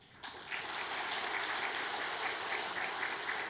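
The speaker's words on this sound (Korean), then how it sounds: "인사하실 때 박수로 격려하겠습니다" A church congregation claps in encouragement for a departing minister, a soft, even patter of many hands that starts abruptly and continues steadily without speech.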